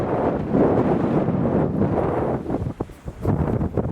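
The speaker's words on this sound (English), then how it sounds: "look how windy it is." Strong wind blows across open ground, buffeting the microphone in heavy, continuous roaring gusts that dip briefly and then surge back, with no talking.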